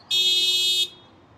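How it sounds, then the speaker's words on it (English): Honda Accord car alarm on a Los Angeles street during Cinco de Mayo at Olvera Street, one loud piercing electronic tone held for under a second and then cut off, leaving faint background hum. "It's a Honda Accord. They just turned the alarm off,"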